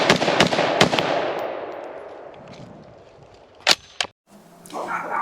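A Springfield Hellion rifle fired one-handed, pistol style, at an outdoor range gives a few quick sharp shots with a long echoing decay, then a couple of isolated louder cracks, followed by handling noise.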